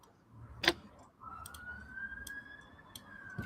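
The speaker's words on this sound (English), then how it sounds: "Sirens are off again." Faint distant siren outside, a rising then sustained wail heard far off beneath sharp nearby clicks and ticks, quiet overall.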